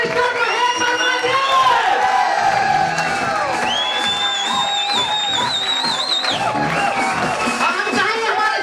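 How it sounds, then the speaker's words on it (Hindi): A crowd at a Delhi seminar cheers and whoops loudly throughout to welcome an honoured guest. The sound is a dense, sustained roar of many voices, with high shouts and yells rising above it, and no distinct clapping stands out. "साथियों, मैं चाहूंगा आप खड़े होकर जोरदार उनका तालियों से स्वागत करें।"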